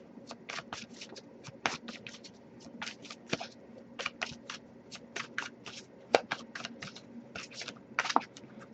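A deck of reading cards is shuffled up close in quick bursts of crisp riffling and flicking, with brief pauses between rounds and a few soft taps.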